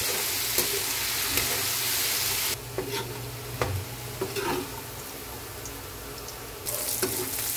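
Onions sautéing in a pan for corned beef, a continuous close sizzle with scattered clicks and scrapes of stirring, dropping quieter in the middle before the loud frying hiss returns.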